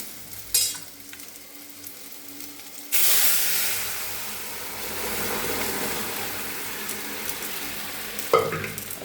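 Nigella seeds and dried chilies tempered in hot oil: a sudden loud sizzle bursts up and then settles into a steady frying crackle and hiss, with a few stirring clinks at the start and end.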